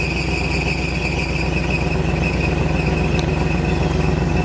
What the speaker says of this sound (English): I got my trusty truck going here